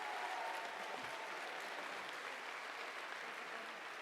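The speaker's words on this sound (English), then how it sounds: "Give yourself a round of applause." An audience at an Ignite talk event claps in sustained, even applause, a dense wash of many hands heard from within the room, fairly quiet and steady for about four seconds.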